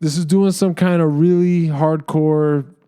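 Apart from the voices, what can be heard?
No everyday noises stand out.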